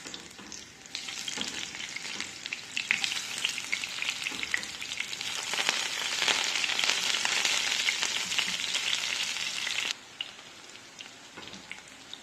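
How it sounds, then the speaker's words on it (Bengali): Onion goes into hot oil in a pan while cooking a dried-fish and eggplant dish with garlic, giving a bright continuous sizzle that builds and then drops abruptly, with stirring scrapes and no talk. "তেল গরম হয়ে গিয়েছে, দিয়ে দিচ্ছি পেঁয়াজ"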